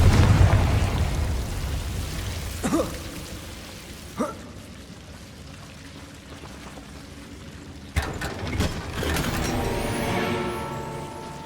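Casting Confringo in Hogwarts Legacy sets off a few sharp blasting cracks spaced apart, the last one a bigger crackling burst that trails into a hissing, fizzing tail over a quiet ambient bed.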